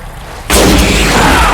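A single loud gunshot from a zombie film cracks out suddenly after a brief quiet stretch, then rolls on into a sustained boomy roar.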